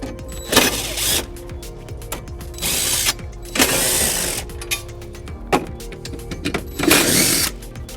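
A ratchet works the 13 mm screws on the battery housing of a 2005 Volvo XC90, giving several close, distinct bursts of rapid clicking separated by short pauses.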